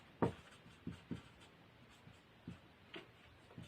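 A pen writes out a geometry proof on paper, making a handful of quiet, separate scratchy strokes with short pauses between them, close and faint, with no voices.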